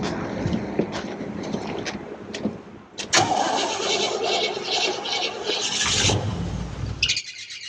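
A Cadillac Brougham engine that has sat for ten years cranks and then fires up with a rough roar, heard up close with birds chirping in the background.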